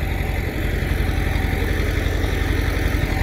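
A tractor engine idles steadily at close range in a farm field during potato planting, a continuous low rumble with no pauses or talk.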